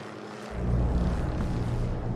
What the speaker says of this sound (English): There are some military choppers flying above us right now.